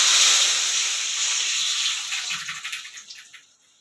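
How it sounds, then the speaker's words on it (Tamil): Prepared rasam poured into a hot tempering of mustard seeds, urad dal and dried chilli, bursting into a loud steamy hiss that fades over a few seconds into soft bubbling. "ரெடி பண்ணி வச்சுக்கிற ரசத்தை இதில் சேர்த்துடலாம்"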